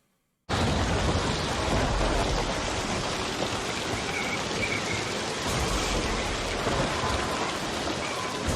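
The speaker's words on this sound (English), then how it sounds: "That's a hell of a storm." Heavy rain pours steadily in a stormy city scene from The Walking Dead, a loud continuous broadband wash with low rumbling thunder beneath, starting abruptly after a short silence and lasting without pause.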